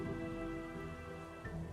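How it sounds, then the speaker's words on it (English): Steady rain falling in the video game Trails in the Sky the 3rd, a dense constant wash blended with a sustained musical drone and no speech. "You didn't have to come out here in the rain."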